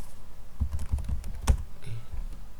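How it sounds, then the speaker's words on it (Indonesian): Computer keyboard being typed on to enter a web address in a browser: a brisk run of close, distinct key clicks with uneven spacing and one sharper strike partway through. "Ketikkan aja localhost."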